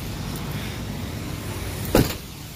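Steady street traffic hum on a gloomy day in Brooklyn, with vehicles passing continuously and a brief louder whoosh or mechanical burst near the end.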